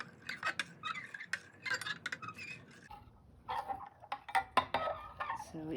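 Homemade soap lye solution being stirred in a container, light scraping and clinking strokes in irregular bursts, close and fairly quiet, with faint background clucking from chickens.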